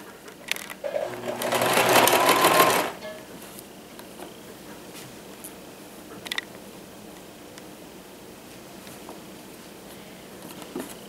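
Sewing machine running an overlock and hidden stitch, one fast whirring burst of about two seconds near the start, then quiet with faint handling clicks.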